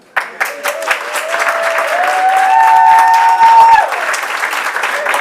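An enthusiastic crowd at a board meeting bursts into loud applause with whistling and cheers, swelling for a few seconds before tapering off.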